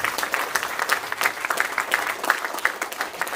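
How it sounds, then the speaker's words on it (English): A Sunday morning worship congregation gives a round of applause for the River City Hall of Famers: a steady roomful of hand clapping with slightly rhythmic pulses, moderately close, with no talk over it. "give a big round of applause for the River City Hall of Famers"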